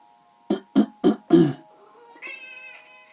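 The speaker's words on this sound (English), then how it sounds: "This is Katie, by the way. Katie the kitty" A pet cat lets out a short series of hoarse, coughing meows in quick succession, followed by a thinner, higher mewl, close and clear against a quiet room with a faint background hum.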